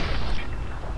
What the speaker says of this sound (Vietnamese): Trời đất, súng này bắn đuối quá.